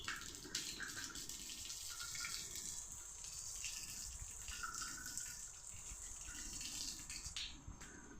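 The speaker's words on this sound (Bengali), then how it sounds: "খানিকটা বাদে আমি এর মধ্যে জল দিচ্ছি।" Water runs steadily into a container for about eight seconds, a continuous close splashing pour at low level with no voices.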